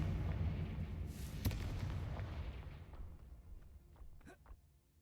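A Confringo spell from the Hogwarts Legacy video game bursts as a loud blast, followed by a rumbling fiery roar that slowly fades, with a few sharp crackles near the end.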